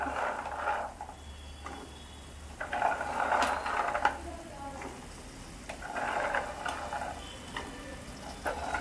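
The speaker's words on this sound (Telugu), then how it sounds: "ఇప్పుడు మటర్ వేస్తున్నాను." Green peas tipped into a pan of kaju matar paneer curry, a few soft rattling bursts and stirring scrapes over a faint sizzle, with someone speaking between them.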